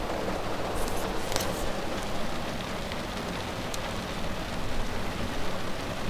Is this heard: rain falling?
yes